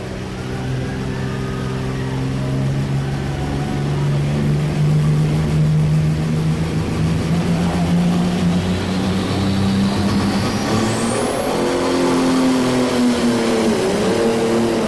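The Case IH 9650 pulling tractor known as Hurricane Alice roars loudly at a farm machinery show pull, its engine holding a heavy sustained drone before climbing in pitch toward the end.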